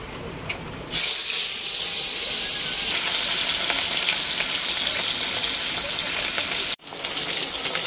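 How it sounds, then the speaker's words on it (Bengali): Fish pieces, including belly cuts, frying in a pan of hot oil, a loud steady broadband sizzle that bursts in after a quiet second, holds evenly, and cuts out briefly near the end before resuming; rain falls outside. "তো এইদিকে মাছটা ভেজে নিই"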